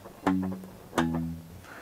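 Palm-muted low guitar bass line from a song giving a bass-guitar-like thud: two short, damped plucks close together, close-miked and quiet, with no speech.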